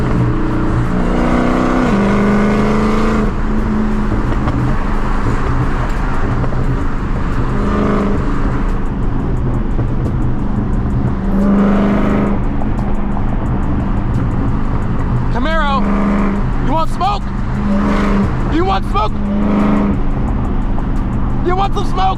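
A 1000-horsepower Dodge Hellcat Redeye engine drones loudly and steadily throughout, with rising revs near the start and later, while people talk over it.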